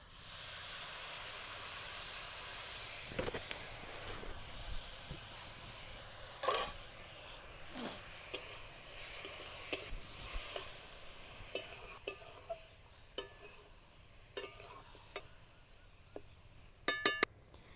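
Grated coconut cooks with date palm jaggery in a wok, a quiet hissing sizzle punctuated by frequent sharp scrapes and taps of a spatula stirring the filling.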